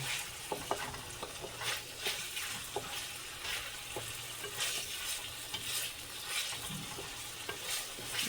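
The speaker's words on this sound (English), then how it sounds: "I'm just trying to keep it all moving, so it doesn't burn." Vegetables for a veggie stir fry sizzle steadily in a pan while a utensil stirs and scrapes them, giving repeated light clicks and scuffs over a constant frying hiss, with no talking.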